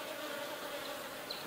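Honey bees buzz in an opened hive split, a faint, steady hum of many wings with a brief higher-pitched whine near the end.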